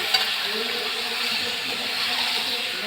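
Meat cooked with little spice fries in a pan, a steady close sizzle and crackle that holds throughout with no voices.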